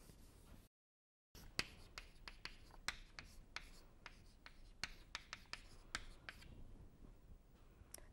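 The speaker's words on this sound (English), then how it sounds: "Let us write that properly." Chalk or marker writing on a board during a physics lecture on coupled oscillators, a run of sharp scratchy strokes and taps over about seven seconds, fairly quiet, with a short silent gap near the start and no talk.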